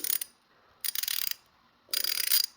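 Micro Pro Tools 3/8-inch drive quick-release ratchet, worn but smooth, turned back and forth in three close bursts of rapid pawl clicking separated by short pauses.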